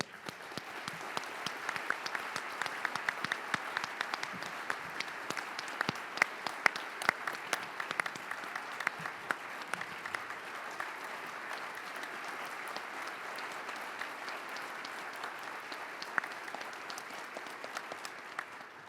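Audience applause at a medical association presidential inauguration, a moderate, even patter of many hands clapping in a large hall that goes on for nearly twenty seconds.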